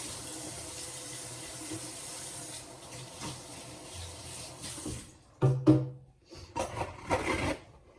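Hands are washed quickly under a running kitchen tap, with a steady stream of water followed by louder, uneven splashing and rubbing bursts near the end.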